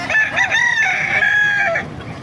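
A ten-month-old Melsim Black gamefowl rooster crows loudly and close by, one full drawn-out call with a rising start and a falling finish.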